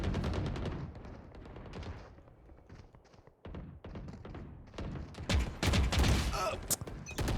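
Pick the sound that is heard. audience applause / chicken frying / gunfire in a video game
gunfire in a video game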